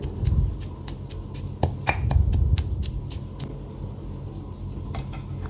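Shallots and garlic are pounded together in a mortar with a steady series of dull thuds and sharp pestle knocks, close and fairly loud, with no voices.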